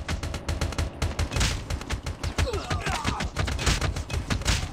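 Rapid bursts of machine gun fire and overlapping gunshots crackle through a Call of Duty Mobile multiplayer match, dense and continuous, with faint game sounds underneath.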